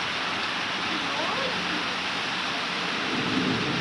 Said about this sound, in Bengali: অনেক সুন্দর এই বৃষ্টির দৃশ্য